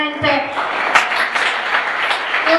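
Audience applause greets the women's volleyball team at a season presentation, a steady wash of clapping filling the whole stretch with crowd voices mixed in.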